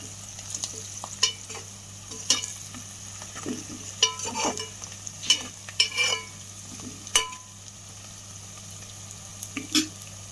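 Okra frying in a pan for an Andhra fish curry, stirred with repeated sharp scrapes and clinks over a steady sizzle, close and fairly loud, with no speech.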